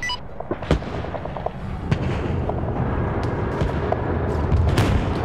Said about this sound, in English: We have a lot of bombs being dropped in here.